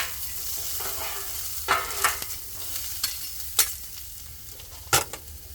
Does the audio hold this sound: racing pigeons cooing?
no